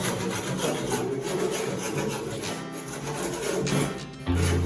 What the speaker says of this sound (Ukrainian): Будемо шліфувати.